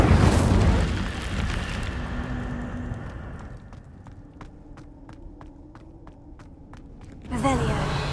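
An Incendio fire spell cast in Hogwarts Legacy, a loud fiery burst that fades into quiet ticking steps before a second roaring flare rises at the end.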